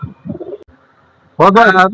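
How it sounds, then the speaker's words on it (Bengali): Pakistani high flyer pigeons, a crossbred Teddy Golden pair, coo close by: soft low murmurs in the first half, then a loud, sustained throaty coo near the end. "টেডি গোল্ডেন ক্রস করানো একজোড়া কবুতর"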